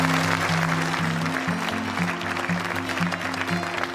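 A crowd at a garden award event gives the garden designers a round of applause. Continuous clapping runs under a pulsing, rhythmic bass-heavy music track.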